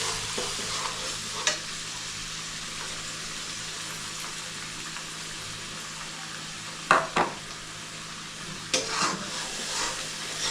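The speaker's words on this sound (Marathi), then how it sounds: "हा मसाला चांगला तेलामध्ये फिरवून घ्यायचा" Ground masala paste fries in hot oil with mustard seeds while being stirred, a quiet, steady sizzling hiss broken by a few sharp spoon scrapes and clinks, with no voices.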